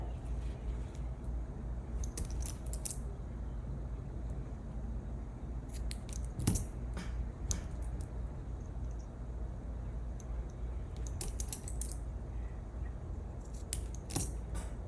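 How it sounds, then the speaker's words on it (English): Scissors trim the threads of a bead crochet necklace, giving quiet, close, irregular crisp snips scattered in small clusters over a low hum, with no talking. "I'm going to trim these off just a little bit."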